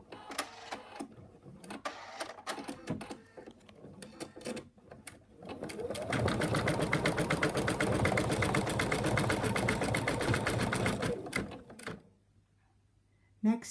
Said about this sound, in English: tape it down, and stitch the next color